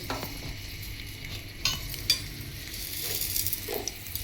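Two dried red chillies hit a little hot oil for tempering an Andhra brinjal curry, giving a steady, soft hissing sizzle with a couple of brief sharper spikes partway through.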